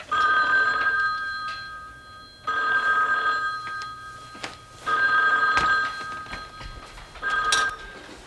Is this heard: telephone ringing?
yes